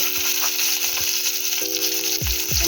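Onion tipped into oil with reddened crushed garlic for a shark fish curry, giving a continuous close sizzle with a few light clicks and a faint tonal hum underneath.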